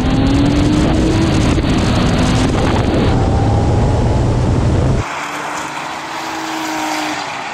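A roaring Porsche 911 Turbo of the 993 generation accelerating hard in a drag race, with rising pitch and heavy wind noise, then cutting to a quieter, more distant engine drone.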